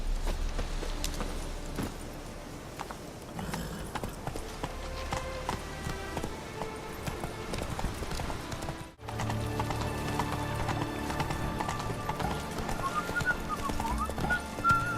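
Roach the horse from The Witcher 3 trots along with steady, rhythmic clip-clopping hoofbeats that persist throughout, mixed under continuous in-game ambience and music, with a short dip near the middle and no one talking.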